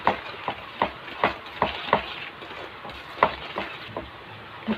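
Oil being stirred into apple pancake batter in a bowl, a run of sharp, fairly regular scraping and tapping strokes close by, with no one talking.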